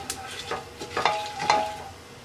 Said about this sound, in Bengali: গোটা মশলাটা হালকা একটু ভেজে নেব।